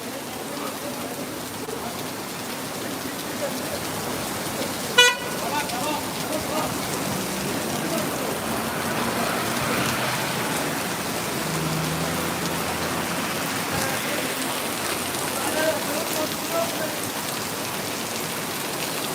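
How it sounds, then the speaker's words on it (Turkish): Heavy summer rain pours in a steady, dense hiss throughout, with one sharp click or knock near the start and no voices clearly standing out. "Malzemeleri içeri alamadan yağmur başladı."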